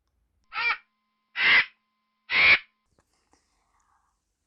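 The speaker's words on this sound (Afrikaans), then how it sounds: "Kraai." Three loud, harsh crow caws in a steady rhythm, each about a third of a second long and close by, followed by near silence.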